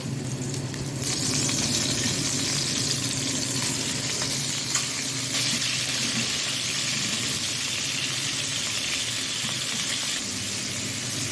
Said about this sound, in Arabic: هننزل باللحمة، عايزين شوية شوربة حلوين